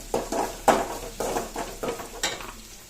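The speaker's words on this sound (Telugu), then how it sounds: "ఇలా మిర్చి బీన్స్ క్యారెట్ వేసుకుంటాము ఫ్రై చేద్దాం బాగా ఫ్రై అవ్వాలి" Chillies, beans and carrots stirred and fried in a pan for cauliflower fried rice, giving a series of close scraping, sizzling bursts in an uneven rhythm, fairly loud with short pauses between strokes.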